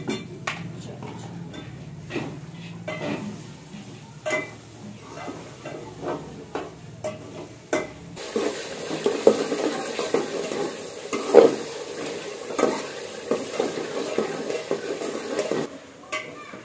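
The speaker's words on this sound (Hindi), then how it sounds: "अब मैं अंदर डालूंगी गोश्त और गोश्त को अच्छे तरीके से भून रहे हैं" Meat (gosht) is stirred and fried in hot tempered oil in a home kitchen. Spoon scrapes against the pan come in bursts, then a louder continuous sizzle takes over midway, close to the listener.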